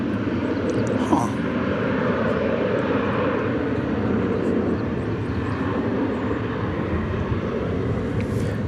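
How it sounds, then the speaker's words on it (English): Airplanes at DFW Airport at night, a steady broad jet-engine roar that holds at a fairly loud level throughout, with faint voices under the rumble. "You can hear the planes"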